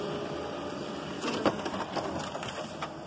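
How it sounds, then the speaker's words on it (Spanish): A Toshiba e-Studio 203SD high-volume office copier running as a connected printer, a continuous mechanical whir with rattling clicks and paper-feed clunks that grow busier after the first second. "Ahorita lo que está haciendo es imprimir, ya que la tenemos conectada"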